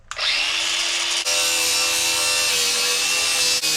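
A power tool cuts through a metal part on a rat rod Camaro, with a loud, harsh continuous whine and brief dips where the blade bites or pauses, heard close and alone.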